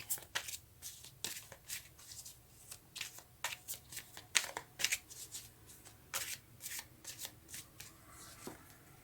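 Tarot cards shuffled for a reading, a steady run of crisp, papery riffles and slaps repeating about once or twice a second, close and fairly quiet, with no talk.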